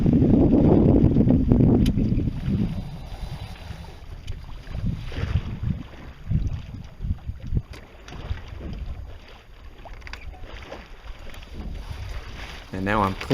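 A sailboat runs downwind on a port tack, with steady wind buffeting the microphone over rushing, sloshing water against the hull, continuous and close throughout.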